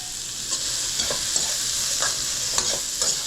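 Sichuan peppercorns and dried chilies fry in hot oil for Kung Pao tofu, a steady bright sizzle broken by several soft stirring scrapes and clicks, close and continuous with no talking.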